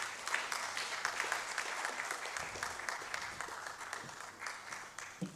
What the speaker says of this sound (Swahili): Tuongeze makofi kidogo akiwa anafika.